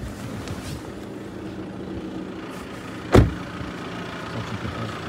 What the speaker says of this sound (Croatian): Vrlo uredno radi u leru